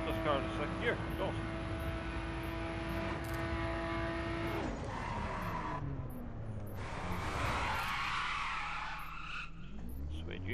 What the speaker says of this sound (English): Put this car in a second gear, go.